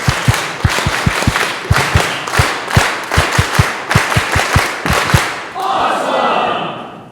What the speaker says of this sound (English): So let's give them our awesome clap.